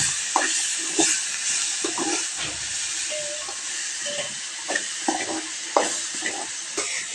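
Tomato, curry leaves and coriander sauté in a pan for a chutney, giving a steady bright sizzle with repeated scraping stirs and clinks of a spoon, close and fairly loud, with no talking.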